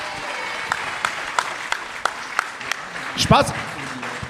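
A comedy-show audience applauds a novice comedian, thin scattered claps rising and falling under a voice, with a brief spoken remark near the end.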